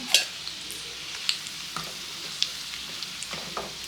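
Prawn chops frying in hot oil until reddish-brown, a light steady sizzle with faint crackles and a few sharp pops and utensil taps.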